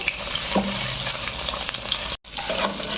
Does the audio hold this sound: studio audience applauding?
no